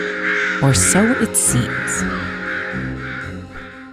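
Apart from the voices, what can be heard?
crows cawing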